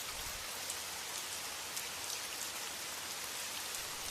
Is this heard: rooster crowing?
no